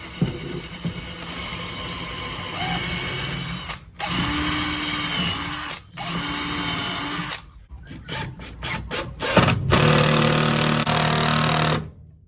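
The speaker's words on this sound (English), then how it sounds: "I'll drill it, come up about 40mm on the side there, drill it in" A power drill whirs into wood in several bursts, stopping and restarting, with short quick triggers near the end before one last long run, during a Mitsubishi Express SWB van build.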